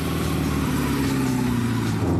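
A 1960s Empi Imp dune buggy drives along a country road, its loud air-cooled engine rumbling steadily up close with a rough, continuous mid-pitched drone and slight fluctuations in revs.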